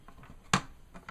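A single sharp snip or slice as cardstock is trimmed down for a Christmas card, one crisp isolated stroke amid near silence.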